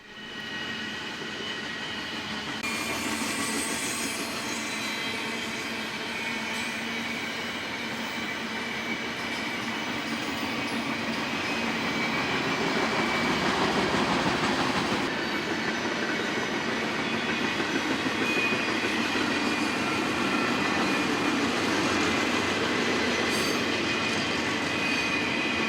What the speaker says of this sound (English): This train originated in Oxnard on the coastline and was destined for Fort Bliss, Texas.